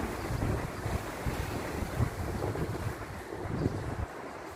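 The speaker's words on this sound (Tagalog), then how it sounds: "Mahangin." Steady wind roars and rushes throughout, dense and continuous, with low gusting rumble and no voices.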